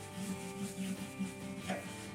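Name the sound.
rubbing beeswax onto a wooden rolling pin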